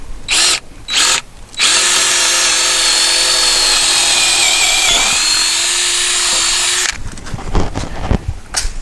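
A power drill bores a hole through a backyard fence for a hex bolt, a steady loud whine lasting about five seconds with a slight pitch drop midway, preceded by two short bursts and followed by clattering handling noise.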